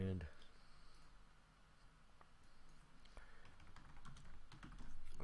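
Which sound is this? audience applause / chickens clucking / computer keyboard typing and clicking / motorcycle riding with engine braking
computer keyboard typing and clicking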